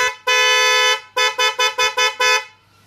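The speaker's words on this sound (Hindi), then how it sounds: "हॉर्न का भी एक बार आप साउंड सुन लो कि साउंड कैसा है" A loud, bright horn on a modified TVS Apache RTR 160 motorcycle gives one long blast, then a quick string of six short honks, close and clear with nothing else around.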